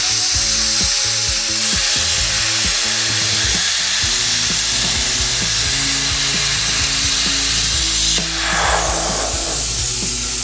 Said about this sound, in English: That's a perfect plunge cut.